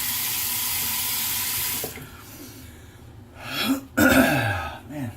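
A bathroom tap runs steadily for rinsing off after a shave, then cuts off, leaving splashes, dripping and a few throat noises and breaths close by.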